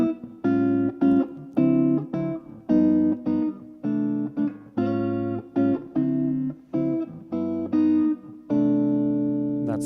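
Guitar chords strummed in a progression of secondary dominants, each chord ringing in steady rhythmic bursts with short gaps, close and clear, ending on a longer sustained chord; no voices.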